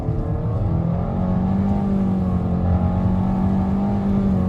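A Nissan Altima 2.5 SV is driven on the road, its engine giving a steady, loud droning hum with a low whirring pitch that drifts slightly upward, heard from inside the car with no talking.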